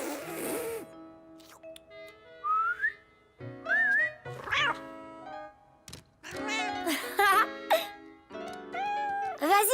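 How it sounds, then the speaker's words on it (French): Cartoon characters whistle in short, rising and warbling notes, with bursts of speech in between the whistles. "Pourrais-tu m'apprendre à siffler?"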